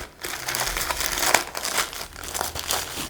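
Crinkling of a plastic cover holding switchboard sticker label sheets, handled up close in a quiet room with irregular crackles and crunches throughout.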